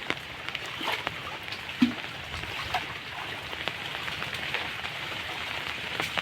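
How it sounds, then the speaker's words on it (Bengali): Steady rain falls in a village setting during a shrimp fishing trip, an even patter of drops on surfaces throughout, with a few sharper individual splashes standing out against the continuous wash. "দেখো বৃষ্টি হচ্ছে"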